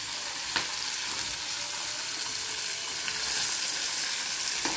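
Green chillies fry in a hot pan with a steady, broadband sizzle that holds evenly throughout, with a few faint clicks and no voices.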